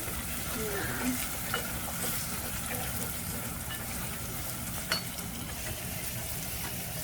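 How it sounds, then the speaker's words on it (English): Onion and rice frying and being stirred in a pot for Somali rice, a steady dense sizzle with a few soft utensil scrapes throughout, close and continuous. "you just keep stirring it"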